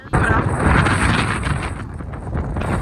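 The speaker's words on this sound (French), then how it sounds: "Bon, comme d'hab, il y a trop de vent." Strong wind on a hill buffets the microphone with loud, continuous rumbling gusts that swell and ease slightly, with a faint voice buried under it.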